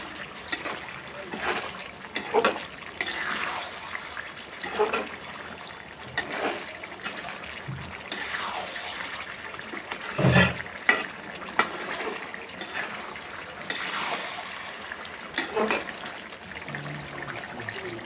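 Chicken liver and stomach stirred in a pan with its own cooking liquid, giving repeated scraping, wet stirring strokes and soft sizzling, with a voice talking at times.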